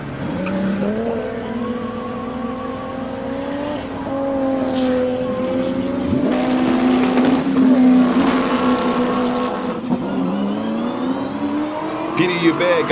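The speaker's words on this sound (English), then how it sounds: "Listen, let's listen to this Beetle." A turbocharged Volkswagen Beetle race car engine screams through gear changes at the Simola Hillclimb, pitch climbing and dropping, with a sharp tire squeal near the middle; loud and close.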